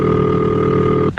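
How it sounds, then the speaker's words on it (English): A telephone ringing signal sounds as one steady buzzing tone that cuts off after about a second. "This is the ringing signal."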